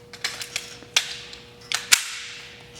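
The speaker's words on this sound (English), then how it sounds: "I'm going to load it again with the force-on-force simunition marking rounds." A Glock pistol fires simunition force-on-force marking rounds, giving about eight sharp, light cracks spaced irregularly over a few seconds, the last one loudest, with no voices.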